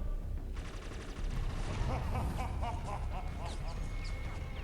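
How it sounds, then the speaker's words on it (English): Gunfire in the video game Inversion, rapid bursts of shots crackling steadily through a dense, loud game soundscape with chirping, quack-like effects layered on top. "Shoot him, Leo!"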